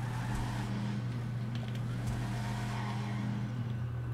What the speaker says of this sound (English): You'll hear your car shift into second gear